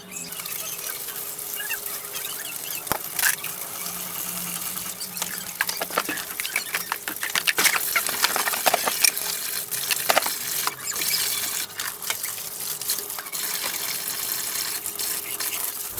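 Dishes being washed under running water at a kitchen sink: a steady hiss of flowing water with frequent clinks and clatters of plates and utensils throughout, and no talking.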